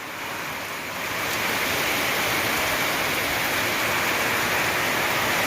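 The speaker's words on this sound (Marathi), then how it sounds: "पाऊस एक नंबर मित्रांनो आले बरं" Heavy rain pours down in a dense, unbroken hiss that swells slightly in the first second, then stays loud and steady.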